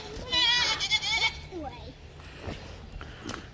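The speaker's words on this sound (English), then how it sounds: "The goats came up to see us" Goats penned on a homestead bleat loudly and raggedly near the start, followed by fainter calls and rustling while a person talks nearby.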